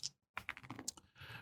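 Dice rolled for NFL week 12 picks clatter and tumble across a hard surface in a quick burst of clicky knocks after a short pause, fairly close and clear with no talking.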